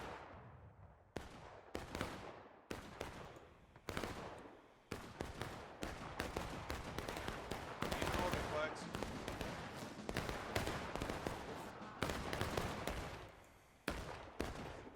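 Rapid, overlapping musket volleys crack across a large-scale game battle of the EU Grand Campaign, with close and distant shots firing in dense, continuous bursts throughout and brief gaps between salvos.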